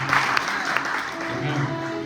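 A church congregation at a French-language prayer service breaks into applause and cheering, a steady wash of clapping and voices running the whole time under sustained musical tones.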